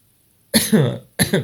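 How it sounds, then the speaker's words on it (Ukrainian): Two sharp coughs close up, the first longer and rougher, the second following after a short pause. "коли я кашляю, вам нічого не загрожує"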